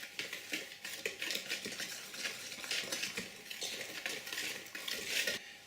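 Rice flour, cornstarch and powdered sugar for gluten-free canelé batter stirred in a bowl, a quiet, continuous scraping and clinking of a utensil against the dish with no voices.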